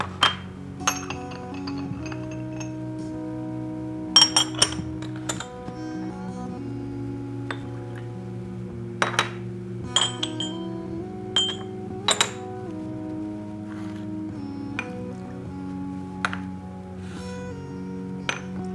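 Porcelain tea cups are rinsed and handled for a tea tasting, with scattered bright clinks and taps of ceramic against ceramic over a soft, steady background hum, close and fairly quiet.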